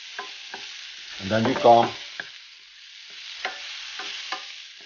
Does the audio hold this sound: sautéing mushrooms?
yes